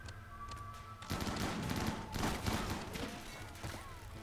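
Automated turrets in the Rimworld video game open up in rapid bursts of gunfire, a dense fusillade of sharp cracks that kicks in after a quieter opening second and keeps rattling with thuds and crashes mixed in.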